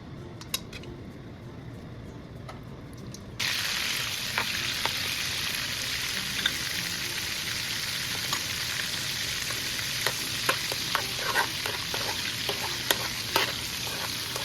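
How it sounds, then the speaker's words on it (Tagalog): Butter melting in hot olive oil for a Cajun seafood boil, starting as faint crackles before a fuller sizzle kicks in and continues steadily with scattered pops and stirring clicks. "Ngayon ilagay na natin yung butter para hindi siya masunog at mag-melt na siya kaagad"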